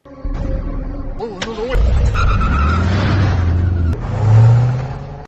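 A film car floored as the driver makes a getaway from a compound, a brief tire screech and rising engine roar, loud and close, with a sharp swell of acceleration near the end amid other bursts of action noise.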